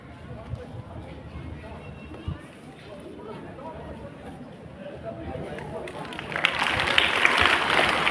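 Audience applause from students at a school session swells near the end, a dense, close wash of clapping rising after a stretch of murmuring and movement in the room.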